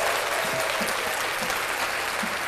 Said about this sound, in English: let's clap that up for Golden State